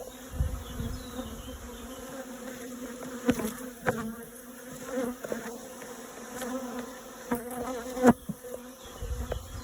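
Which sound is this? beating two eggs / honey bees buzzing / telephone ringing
honey bees buzzing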